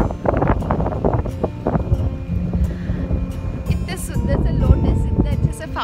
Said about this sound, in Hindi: और इतनी ज़्यादा हवा चल रही है ना बाहर में